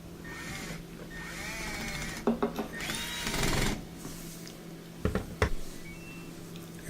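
A cordless screwdriver drives Phillips head screws back into the rear panel of an LG washer dryer, giving short whirring bursts with clicks and clunks of handling between them, close by with no speech.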